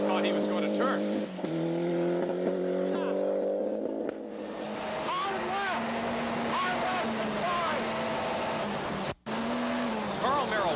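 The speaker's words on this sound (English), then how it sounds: "Up in 7th gear on this stage. If he managed to pull maximum revs, that translates to a top speed" Rally car engine at high revs on a dirt stage during the 1994 Rally Baie des Chaleurs, a steady loud harmonic drone that rises in pitch after a brief dip, with a short dropout near the end.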